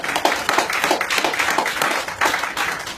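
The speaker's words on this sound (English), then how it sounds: "Let's all give the Lord a clap offering of praise." A congregation claps in praise at a live church gathering, a lively, fairly close burst of many hands beating in a quick, roughly steady rhythm for a few seconds.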